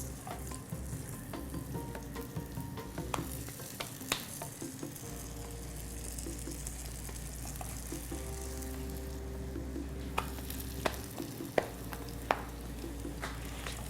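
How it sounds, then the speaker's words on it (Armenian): Chinese meat dumplings frying in a pan, a steady close oil sizzle with occasional sharp crackles and pops, alone without voices. "Երկու կողմից տապակում ենք կարկանդակները"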